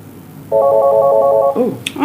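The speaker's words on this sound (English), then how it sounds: "we got a phone call" A telephone rings with an incoming call during a live talk show, a single warbling electronic ring burst lasting about a second, loud and close, followed by brief rustling and handling noise.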